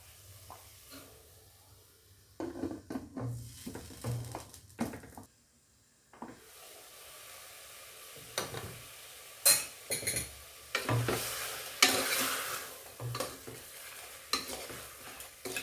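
Onions and chicken soup base sauté in a covered pot for country chicken soup, with repeated stirring scrapes and a low steady sizzle, plus occasional clinks of utensil against the pot, close and fairly loud.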